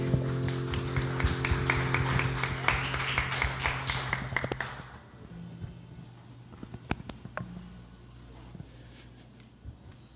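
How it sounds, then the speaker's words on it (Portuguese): A church congregation applauds, with a dense burst of clapping over sustained music that drops off after about five seconds, leaving a quiet room with a few scattered, isolated claps. "Aplauda o nome dele."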